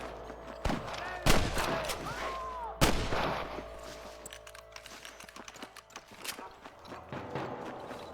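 Gunfire in the western video game Red Dead Redemption: several sharp, loud shots at irregular intervals over rolling battle ambience and game chatter, with a few fainter distant pops afterward.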